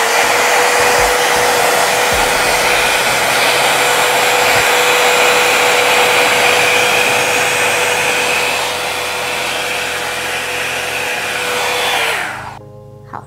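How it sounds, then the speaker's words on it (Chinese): A handheld hair dryer runs loud and steady for about twelve seconds while blow-drying hair around a Revlon round brush, its airflow pitch shifting slightly as the brush turns, then it cuts off abruptly near the end. "那我们就来吹整。"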